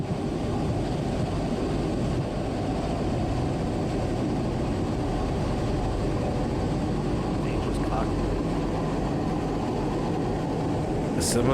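A jet aircraft flying low through a canyon at high speed produces a steady, broad roaring drone for several seconds, with a person's voice faintly present over it.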